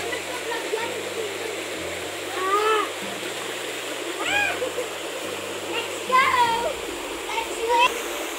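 Water rushes steadily at a waterfall, a constant loud roar that runs the whole time. Voices and birdsong sit on top of it, and a low hum shifts underneath.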